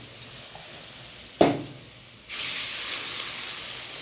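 Water hits a hot pan of spices fried with cumin powder, salt and turmeric for a fish curry, with a sharp burst followed by a loud, steady sizzling hiss that carries on to the end.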